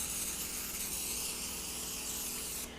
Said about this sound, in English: I'm going to spray it liberally